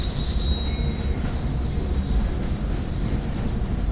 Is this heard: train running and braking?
yes